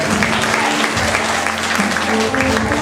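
An audience at a school parents' conference gives children a brisk round of applause, the clapping loud and continuous throughout, with faint voices in the background.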